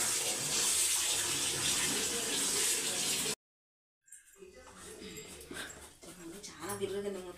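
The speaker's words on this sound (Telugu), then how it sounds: "అయితే నేనైతే బాగా పెద్ద దాంట్లో వేసి కడుగుతున్నాను." Raw chicken being washed in water in a large vessel at home before cooking chicken fry, splashing and running water loud at first, then a brief gap and softer sloshing with someone talking.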